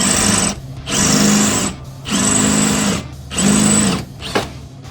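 A power drill bores into stainless steel while installing a wastegate on a turbo S10 build: four whining bursts of a few seconds each, separated by short pauses, close and loud.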